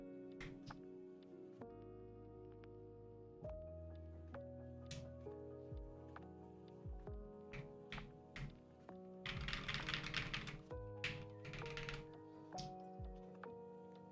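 Keystrokes clatter on a Satisfaction75 mechanical keyboard with Alpaca switches, SA Bliss keycaps and PE foam, close and crisp in irregular bursts, with a fast flurry of typing near the middle.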